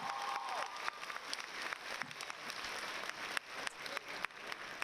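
A crowd applauds at a Lincoln High School graduation ceremony after a student's speech, moderate clapping with a few sharper individual claps and scattered faint cheers from the audience, a brief whistle-like tone near the start.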